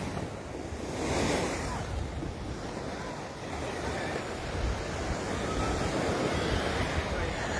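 Ocean surf breaking on a Hawaii beach, a steady close wash of waves with wind buffeting the microphone, a broad rushing roar with one swell building near the start.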